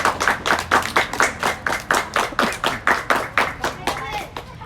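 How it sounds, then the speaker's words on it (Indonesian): An audience claps for three contestants at a competition, a quick, even run of sharp hand claps close by, fading slightly toward the end. "Mari tepuk tangan semuanya."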